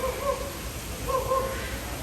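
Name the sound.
bird imitating a dog barking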